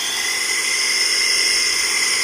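A water pump engine runs beside a garlic planting plot, a loud, steady mechanical whine and drone holding constant with no breaks.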